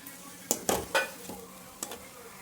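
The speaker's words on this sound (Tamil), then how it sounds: "நல்லா கிண்டி விடுங்க" A spoon stirs black nightshade greens with lentils frying in a pan for a poriyal. A few quick scraping strokes sound against a soft sizzle, close but fairly quiet.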